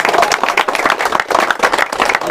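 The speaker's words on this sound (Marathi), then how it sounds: "एकदा सरांसाठी जोरदार टाळ्या द्या" An audience in a small library hall claps for the library director, a dense burst of close applause continuing steadily throughout.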